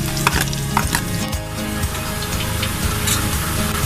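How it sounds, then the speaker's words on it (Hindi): Onions with salt frying in a pan for matar pulao, with a steady close sizzle and a few scraping stirs over it. "नमक प्याज के साथ शामिल कर दो, फ्राई करने में जल्दी फ्राई होता है प्याज"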